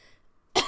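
A single short, sharp cough bursts out close and loud after near silence, from someone who is sick.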